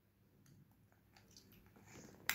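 A dog chews a bite of food up close, soft wet crunches and clicks scattered across a couple of seconds, faint and intimate, ending in a sharper snap.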